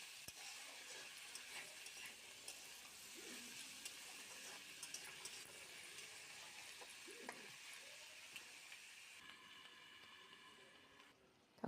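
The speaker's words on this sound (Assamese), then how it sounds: "মাংসখিনি দি ইয়াতে মই নিমখ দি অলপ লাৰি এইখিনি মই ঢাকন দি অলপ টাইম ভাজি ল'ম" Pigeon meat with salt and onion fries in oil in a covered pan, giving a steady, soft sizzle with occasional stirring scrapes and clinks, close by, with no talking.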